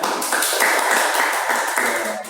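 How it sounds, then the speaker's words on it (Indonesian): A short burst of hand clapping from a small group, loud and close, fading slightly toward the end. "Tepuk tangan buat Yunisha."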